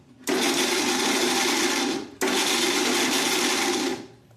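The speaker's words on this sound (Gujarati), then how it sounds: "હવે મિક્સર જારમાં આપણે આને થોડું થોડું મિક્સરને ચાલુ બંધ કરી અને પીસવાનું છે" Mixer grinder chopping green coconut pieces in two pulses of about two seconds each, with a steady loud whirring motor hum, a short gap between the bursts and no voices.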